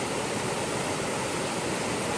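Fast-flowing river water just after a river crossing on an Appalachian Trail thru-hike, a loud, steady rushing roar that fills the whole span without pause.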